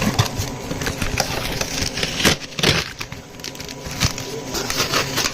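The air pump of an OMTech 60 W laser cutter runs with a steady, close mechanical hum and rattle, punctuated by a few louder knocks and bumps from nearby handling.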